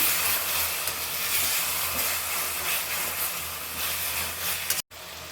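Turmeric frying in hot oil makes a dense, loud, steady hiss and sizzle that continues without a break until a momentary cutout near the end.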